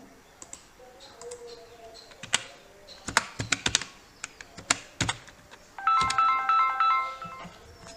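Fingers type a captcha on a computer keyboard, with irregular bursts of crisp, close key clicks followed by a short electronic tone.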